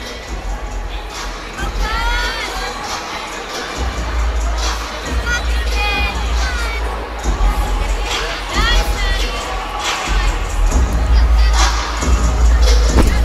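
A large arena crowd cheers and shouts throughout a college gymnastics beam routine, with loud sustained applause and cries that swell toward the end, and a commentator talks over it.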